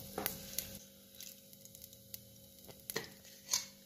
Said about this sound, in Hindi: हम इसमें थोड़ा सा घी डाल देते हैं। अब हम इसे फ्राई करेंगे। एक छोटी चम्मच खसखस डाल देते हैं।